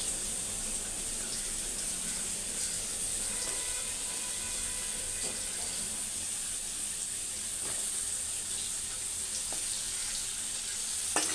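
Radish and drumstick pieces sizzle in a frying pan, making a continuous, moderately quiet hiss with faint clinks of stirring and a watery background, and no speech.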